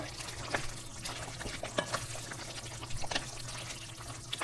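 Spice powder is stirred into a chicken curry in a pot, giving faint, soft scraping and wet sloshing with a few light knocks against the vessel, close by and quiet.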